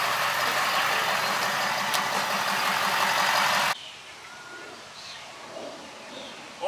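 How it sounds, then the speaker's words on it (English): A diesel truck engine idles steadily and close by for about three and a half seconds, a low even rumble, then cuts off abruptly, leaving faint outdoor ambience with a few distant bird chirps. "Oh, diesel. Doesn't even smoke."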